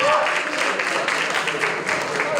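An audience at a debate finals event gives the team a round of applause, a steady, moderately loud stretch of mixed clapping with voices faintly beneath.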